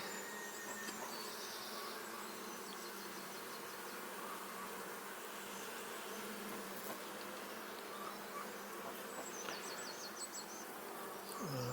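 Honey bees buzz around an open hive with brood frames, a faint continuous hum with occasional louder passes of individual bees close by.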